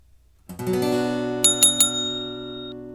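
A sustained minor chord rings out and holds, with three bright metallic accents struck partway through as it fades slowly.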